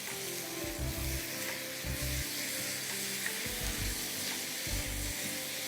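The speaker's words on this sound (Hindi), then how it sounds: "और इसको आप खूब अच्छी तरह भूनिए।" Beef mince frying with onions, a constant close sizzle interrupted by several low thumping scrapes of the spoon working through the meat, with no one speaking.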